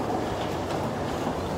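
London Underground metro train rumbling steadily, a dense continuous low roar and rattle of the carriages throughout, with no speech.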